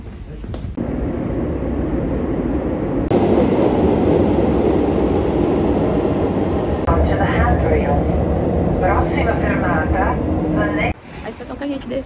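A Milan metro subway train rumbles and hums steadily along the track, with rising and falling whine and some clatter as it moves between stations, while voices talk over the noise.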